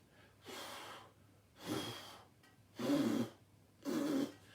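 Four breaths pushed out one after another, each a soft airy whoosh lasting about half a second with short quiet gaps between them. The last two are louder and rougher, and nobody speaks.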